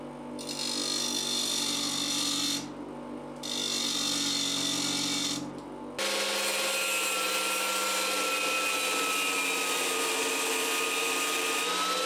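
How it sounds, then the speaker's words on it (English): Grinding the steel tension nut of an acoustic guitar truss rod: a steady, loud, whining motor drone from a power grinder, briefly dipping twice before shifting to a higher, harsher tone that runs on alone. "I'm going to grind off these bits of the tension nut so that they're square with the channel."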